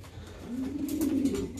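Racing pigeons in a loft give a single soft, drawn-out coo, close and moderately loud over faint background noise.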